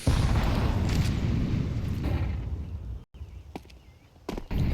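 Grenades bursting during a competitive Counter-Strike match on the B side, a dense rumbling boom that fades over a few seconds, followed by sharp distant pops and another loud burst at the end.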